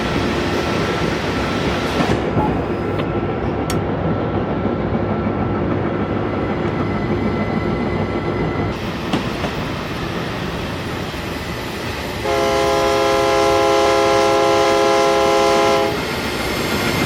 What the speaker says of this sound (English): By a cargo train right there.